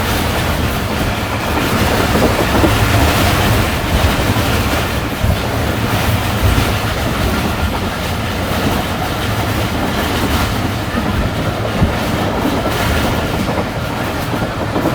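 The Karachi Express passenger train runs at speed, a loud, continuous roar of wheels and rattling carriages heard from inside, with no voices.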